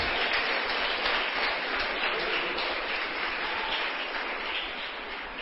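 A church congregation applauds the Lord together, a dense, steady wash of clapping from many hands that holds at full strength throughout and eases only slightly near the end.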